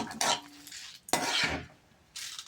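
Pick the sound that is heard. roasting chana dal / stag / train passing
roasting chana dal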